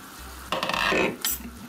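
Chicken being stirred in a pot while cooking: a short scraping stir with a soft sizzle, then a second brief scrape, fairly quiet and close, with no talking.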